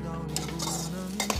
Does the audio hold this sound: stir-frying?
yes